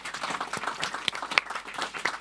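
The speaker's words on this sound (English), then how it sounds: "A special round of applause and thanks for our wonderful panelists." An audience applauds panelists at the close of a community health discussion, a soft, steady patter of many hands clapping at a distance.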